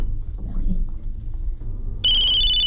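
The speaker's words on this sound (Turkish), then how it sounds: "Şu telefon çalıyor lan." Quiet room ambience with soft background sounds gives way to a loud, insistent telephone ring that starts abruptly and holds steady until the end.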